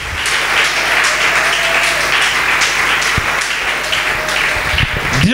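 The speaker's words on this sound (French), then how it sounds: "acclamez pour le sujet de votre adoration" A church congregation claps steadily and loudly together, a dense sustained applause that fills the whole stretch with a few sharper individual claps standing out.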